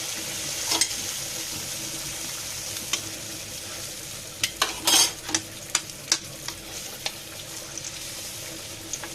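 Pua pitha batter, made from dry rice flour, maida and sugar, fries in oil with a soft, continuous sizzle and occasional sharper pops and clicks toward the end, close but fairly quiet.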